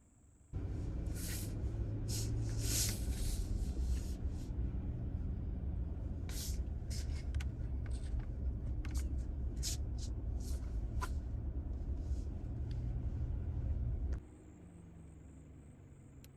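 A truck cruises along a road through Florida wildlife corridors, heard from inside the cab as a steady, fairly loud roar of engine and tire noise that starts abruptly and drops off sharply near the end.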